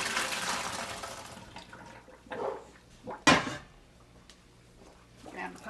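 Cooked macaroni poured from a pot into a kitchen sink: a broad rush of water and hot liquid hitting the basin at the start, fading to quieter trickles, with a sharp metallic clunk of the pot midway.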